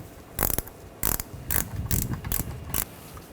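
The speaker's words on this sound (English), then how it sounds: "You can switch to a ratchet wrench once you break it free." A ratchet wrench loosens an engine torque strut mount bolt on a 2013-2019 Ford Escape, giving about six short, loud, close bursts of rapid clicking separated by brief pauses.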